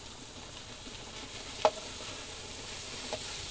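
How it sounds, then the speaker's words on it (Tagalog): Pork and Baguio beans stir-frying in a pan, a low steady sizzle with a single clack of a utensil partway through and a fainter knock near the end, no voices. "Hinalo na natin sa ating pork at igisa na natin guys."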